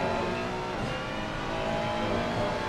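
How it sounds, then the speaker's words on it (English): A Ferrari GT race car in Assetto Corsa Competizione accelerates hard at Silverstone, its engine a loud, steady high-revving whine that holds unbroken throughout. "He's getting on the throttle nice and early out of corners, which is a good thing for the Ferrari to do."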